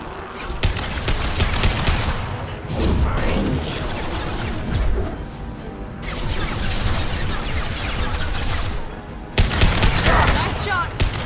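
Rapid gunfire in the Mass Effect 2 video game, dense bursts of shots and booms cracking loudly in clusters across the scene, with voices talking over the combat.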